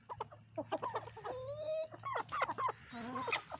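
Close turkey hen clucking and drawn-out warbling calls, repeated in irregular bursts over a low background hum.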